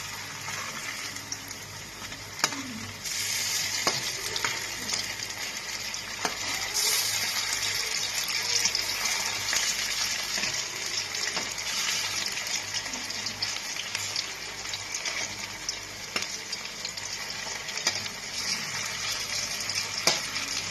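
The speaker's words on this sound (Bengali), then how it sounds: "এরকমভাবে আমি বড়াগুলোকে ভেজে নেব" Mutton fat fritters (bora) frying in hot oil at home, a steady bright hiss and crackle running throughout with occasional sharper pops and faint clicks of handling.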